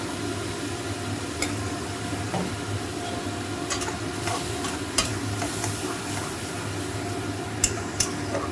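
Jackfruit curry with onion paste being stir-fried in a pan, a steady low sizzle with occasional scraping clinks of a spatula, close and continuous with no talking.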